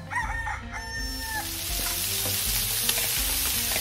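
Steady loud sizzling of chicken wings frying in a hot pan, with occasional crackles and scraping stirs throughout; no talking.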